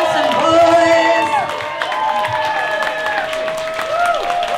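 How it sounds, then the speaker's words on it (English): Bar audience at a Bar Wotever cabaret night cheering and whooping with applause, loud and close, with sustained whistles and high tonal cries riding over a dense crowd roar. "Everyone give another round of applause for Sergina and the handsome boys."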